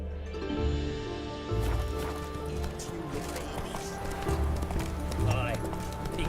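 Geralt's horse Roach galloping in The Witcher 3, steady rhythmic hoofbeats running under game music with occasional heavier thuds, fairly close and continuous.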